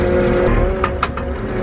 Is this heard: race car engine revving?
yes